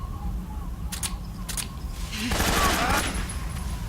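Gunfire in a Metal Gear Solid 3 boss fight, sharp bursts of shots over a low rumbling game background, with a louder, denser volley building near the end.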